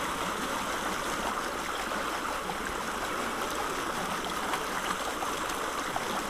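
Gold pan agitated in a stream while working clay-rich gravel, a steady faint rush of flowing water with soft sloshing throughout.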